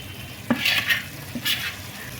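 Garam masala paste stirred into a thick frying curry of pond snails, soft sizzling under a few distinct spatula scrapes against the pan, with no talking.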